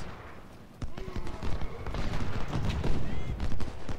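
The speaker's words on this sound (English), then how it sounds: "The cannons just fired, so let's get at them before they are reloaded." Cannon artillery fire booms in the Civil War battle game Ultimate General: Civil War, several sharp blasts and reports in quick, uneven succession over a loud battlefield din, with a voice faintly underneath.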